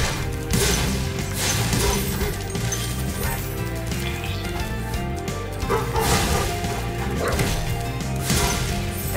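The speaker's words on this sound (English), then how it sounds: "Okay, so now there's three dogs." Dogs bark in the Spyro Reignited Trilogy video game amid game music and crashing, thwacking effects, with bursts of yips and whimpers over a busy soundtrack.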